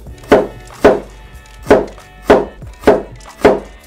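A knife dicing an onion into cubes chops steadily on a board, six crisp thuds in a regular rhythm, close and clear with no talking.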